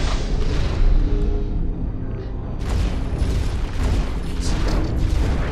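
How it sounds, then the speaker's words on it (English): Explosions pound a mech in Hawken, a dense roar of booms and rumbling impacts that swells and repeats, loud and close, with a fresh burst of blasts midway. "Do the explosions go directly through the shield?"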